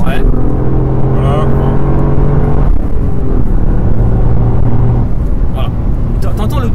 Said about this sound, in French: T'entends le turbo. Hein. Tu l'entends vraiment chanter.